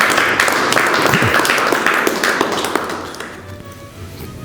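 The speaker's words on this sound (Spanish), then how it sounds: "Un aplauso." Applause from a seated audience at a public speaking workshop in Mexico after a reading, a dense patter of clapping that fades toward the end.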